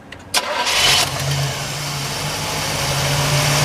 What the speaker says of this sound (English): I'll go ahead and fire this one up for you so you can hear it.